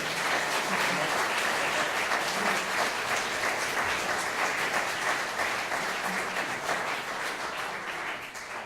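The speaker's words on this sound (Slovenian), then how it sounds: "Aplavz, prosim." A hall audience applauds a men's choir with sustained, dense clapping at an even level that gradually fades toward the end.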